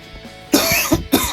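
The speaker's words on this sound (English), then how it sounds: "I've been having this annoying cough all along." A person coughs three times in quick succession, loud and close, with harsh raspy bursts and no talking.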